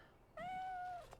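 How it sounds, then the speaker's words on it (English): A cat in the Dragon Age Origins video game lets out a single clear, drawn-out meow, close and fairly quiet against a soft background hush. "Cat."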